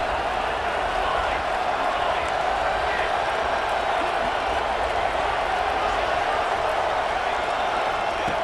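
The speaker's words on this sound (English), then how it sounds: "this home crowd is fired up and ready to make a difference today." A home football crowd at a Minnesota Golden Gophers game sends up a constant, far-off roar that stays even throughout, with no distinct claps or shouts standing out.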